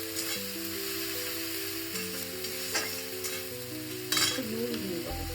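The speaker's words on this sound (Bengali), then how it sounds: "এবার একটু কষিয়ে নেবো।" Prawns coated in salt, turmeric and spice paste are stir-fried in a pan, giving a steady sizzle with stirring, under tonal background music throughout.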